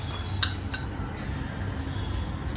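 Utensils clink against a dish while a Thai salad dressing of salt, sugar, chili, fish sauce and soy sauce is mixed, a few sharp metallic taps over a low steady background.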